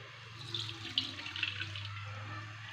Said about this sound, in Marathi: हे बघा तुम्ही पाहू शकता असं पाणी त्याचं पूर्ण पिळून काढायचं आहे